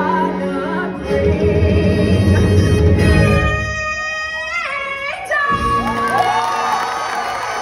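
A packed Broadway theatre audience on the re-opening night of Wicked cheers and screams loudly and continuously, with shrill whoops and sustained high screams rising above the roar.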